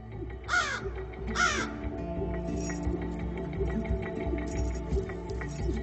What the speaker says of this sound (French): Les croassements de cet adulte pourraient bien sauver la vie de son petit.